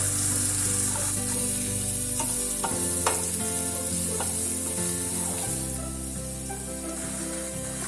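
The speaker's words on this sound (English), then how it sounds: "I'm adding the marinated prawns and cook for a few minutes" Marinated prawns fry in a hot pan with a continuous loud sizzle, punctuated by occasional stirring knocks and scrapes, easing slightly toward the end.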